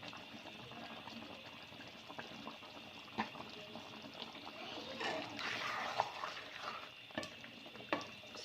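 Chicken handi simmers in a pot as its water cooks off, a soft bubbling sizzle with occasional stirring clinks and scrapes, fairly quiet throughout.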